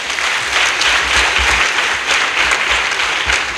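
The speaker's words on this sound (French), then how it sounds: "Vous devez l'applaudir." A crowd at a Béninese opposition party rally for the FCBE claps in a dense, continuous burst of applause, loud and close, lasting a few seconds with no voices over it.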